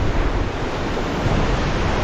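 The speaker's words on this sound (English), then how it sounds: "You see the Ganga river flowing all the way." The Ganga river near Badrinath rushes in a loud, continuous broadband roar, steady and close, with wind buffeting the microphone and no voices.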